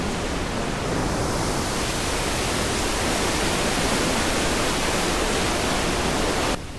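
Mapalyao Falls in Buliwao, Quezon, Nueva Vizcaya, pouring in a steady, dense broadband roar that stays loud and unbroken, with no voices, until it drops off abruptly at the very end.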